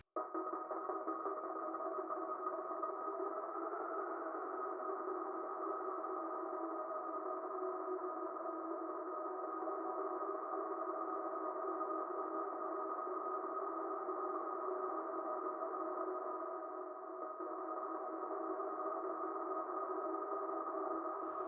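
A sustained, droning synthesizer tone with a washed-out, reverberant tail, holding steady and unbroken for about twenty seconds, in an ambient djent/metal soundscape.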